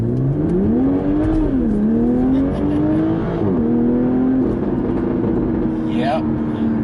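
A Toyota GR Supra in Sport Plus mode accelerates hard, its engine note climbing loud and close through several gear shifts, the pitch dipping at each change before rising again, with a brief voice near the end.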